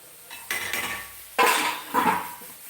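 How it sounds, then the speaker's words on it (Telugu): A metal lid clatters onto a cooking pot in a home kitchen after a curry is done, with a few sharp clanks and scrapes of cookware close by, no talking. "కర్రీ అక్కడ పెట్టాను అయిపోయింది కదా మూత పెట్టేద్దాం"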